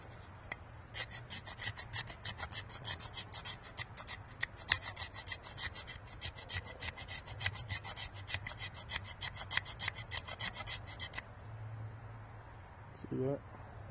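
A Mora Eldris knife spine scrapes fine shavings off a block outdoors on a porch, producing a fast, steady run of rasping strokes close to the mic before the scraping stops near the end.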